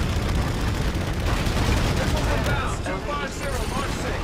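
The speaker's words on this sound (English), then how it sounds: "I'm gonna shoot this thing to the ground." Dense gunfire rattles in Call of Duty: Infinite Warfare during an aerial dogfight. Rapid bursts pile into a loud, continuous barrage under a voice and other battle noise.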